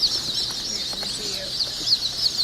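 Buff Brahma chickens at a hatchery, a dense chorus of high chick peeping and soft clucking, steady and close, with faint movement noises beneath.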